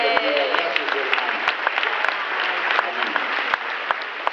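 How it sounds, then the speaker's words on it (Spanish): An audience claps steadily throughout, dense applause from a crowd, fairly loud, with a voice briefly audible near the start. "¿Lo merecen un aplauso?"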